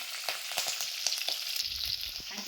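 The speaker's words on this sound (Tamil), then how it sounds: "கடுகு பொரியுது அடுத்தது வந்து நம்ம கருவேப்பிலையை சேர்த்துக்குவோம்" Mustard seeds and curry leaves sizzle and crackle in hot oil in a pan for rice kichdi, a steady close hiss with small popping bursts, no talk.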